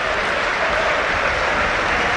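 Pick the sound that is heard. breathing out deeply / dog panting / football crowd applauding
football crowd applauding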